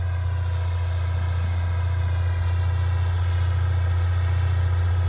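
An IH 686 tractor cultivating soybeans runs at a steady, unbroken drone, a loud low hum with a constant vibrating texture and no change in pitch throughout.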